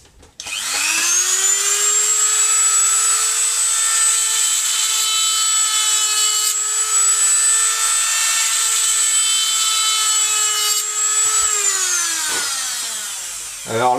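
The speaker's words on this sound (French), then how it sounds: "Je vais d'abord faire des petits trous de diamètre 2 mm sur tout le pourtour de ma zone à découper." A high-speed drill bores small 2 mm pilot holes around a marked cut-out area, a steady loud whine held for about ten seconds before it winds down, close up with no talk.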